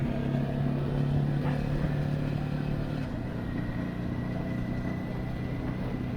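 A Ducati Hyper Motard 950 RVE being ridden, with a steady, close engine drone and rumble that stays loud and even throughout, carrying faint clatter and no talk.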